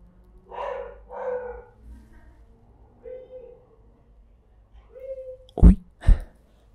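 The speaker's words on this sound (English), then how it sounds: "dog outside" A dog barks outside, two sharp loud barks near the end, following quiet whispered speech earlier.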